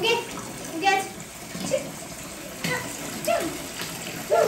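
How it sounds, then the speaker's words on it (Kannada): Water runs into a bathtub as a small child is bathed, a steady wash of splashing and gushing under scattered bursts of a child's and adults' voices. "ಸ್ನಾನ ಮಾಡಿಸ್ತಾವಳೆ ಸಾನ್ವಿಗೆ."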